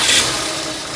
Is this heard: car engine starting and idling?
yes